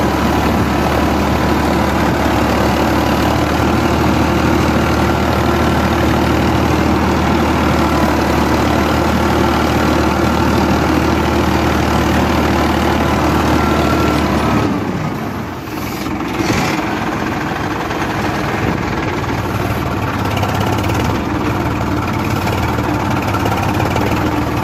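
Farmtrac 60 Powermaxx tractor engine running steadily up close, a loud continuous low rumble with mechanical vibration that shifts and roughens briefly partway through, with no talking.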